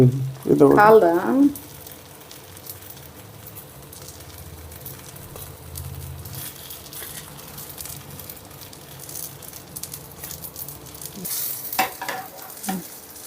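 Stuffed brinjal frying in a pan with garlic masala, a low steady sizzle with light stirring rattles, preceded by a short burst of louder clatter at the start.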